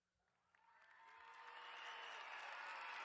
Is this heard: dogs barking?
no